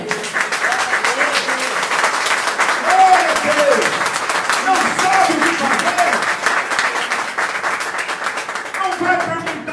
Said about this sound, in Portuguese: aplauda o Senhor aí